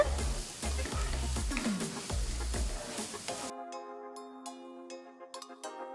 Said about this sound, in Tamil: 3 மீடியம் சைஸ் வெங்காயம் பொடியாக நறுக்கி போடுறேன். நல்லா வதக்குங்க.